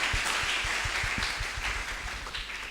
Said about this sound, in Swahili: Acclamez vous-même.